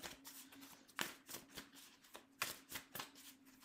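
Tarot cards are shuffled by hand in a quiet room, giving soft, rhythmic riffles and taps heard close and faint, with no talking.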